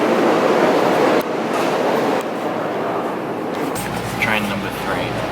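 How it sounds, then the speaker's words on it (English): Loud rumbling train noise in Japan with rushing, clattering rail sounds throughout, joined near the end by a faint announcement-like voice. "Train number 3"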